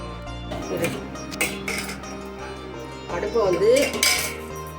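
A spoon stirs gram flour batter tinted with kesari color in a bowl for ladoo, giving close clinks and scrapes against the bowl in uneven bursts, with no voices.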